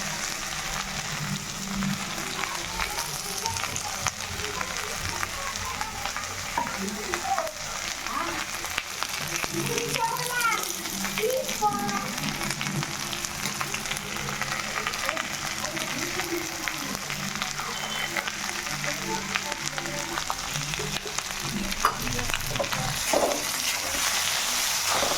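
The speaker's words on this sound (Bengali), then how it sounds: "আদা জিরে বাটাটা দিয়ে একটু ভালো করে কষে নিতে হবে" Ginger and cumin paste frying in a pan for a Bengali fish curry, a steady broadband sizzle running throughout with faint stirring and some background voices.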